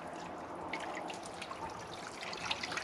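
Water trickles and drips steadily from a soaked animal hide lifted out of its soaking bath, a close, continuous patter with scattered brighter drops and no voices.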